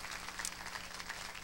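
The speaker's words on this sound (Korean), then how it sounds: "우리 두 반주자에게 한 번 더 박수를 보내주시면 감사하겠습니다" A concert audience at a choir performance gives steady, moderately loud applause for two accompanists, a continuous wash of clapping with no voices over it.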